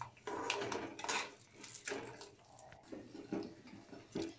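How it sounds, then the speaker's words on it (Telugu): Roasted chana dal and curry leaves being stirred in a pan with peanuts for a poha mixture, soft scraping and clinking of a spoon against metal, quiet and close, with no speech. "పుట్నాల పప్పు, ఇంకా కరివేపాకు వేసి బాగా కలపండి."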